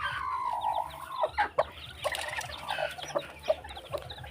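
Hens and newly hatched chicks, hatched while brooding on sand and straw, cluck and cheep close by, with irregular short clucks and higher peeps over a low background, no talk.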